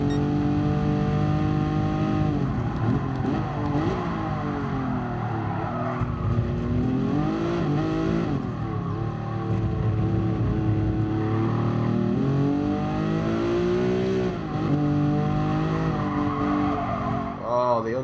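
Race car engine in GT Sport, loud and continuous at close range, revving up and down with steady gear-change sweeps and occasional tire squeal, a voice faintly present beneath.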